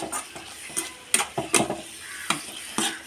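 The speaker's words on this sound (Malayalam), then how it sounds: "ഇനി ഇതൊന്ന് ഇളക്കാം. നന്നായിട്ടൊന്ന് ഇളക്കിയെടുക്കണേ." Masala for chicken biryani is stirred as it fries in a pan, giving a soft steady sizzle broken by several sharp scraping clinks of the spoon against the pan at irregular intervals.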